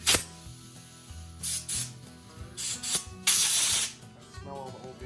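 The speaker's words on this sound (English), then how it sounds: "Make sure you're getting flow through these so you can see it spray out." Several short bursts of pressurized spray hissing close up through the carburetor jets of a Honda ATC70 with a CRF110 engine, separated by pauses, with small metallic handling noises between them.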